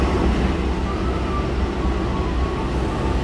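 KA Argo Anggrek passenger train at Jatinegara station in Jakarta, a steady low rumble of rolling rail cars filling the whole stretch at close range, with no talk.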